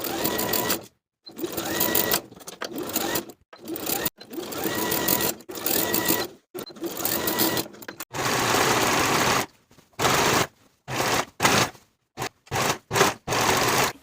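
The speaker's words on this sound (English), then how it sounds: "sew with a 1/2 inch seam allowance all the way around" A sewing machine runs in repeated close, loud bursts, stitching a peplum to a blouse bodice along a half-inch seam, with short pauses and quick stops between runs and a longer steady stretch near the middle.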